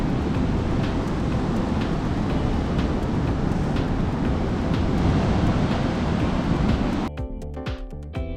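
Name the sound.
strong wind at Goa beach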